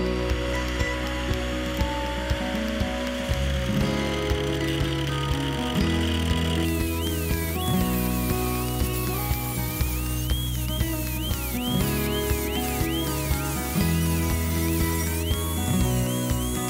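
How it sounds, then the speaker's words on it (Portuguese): An angle grinder fitted with a thin stainless steel cutting disc cuts a lock opening during a locksmith installation job, a loud whining tone that wavers and shifts in pitch as the disc bites, running throughout without speech. "Agora eu vou pegar um disco fino, esses discos de inox, que ele é bem fininho,"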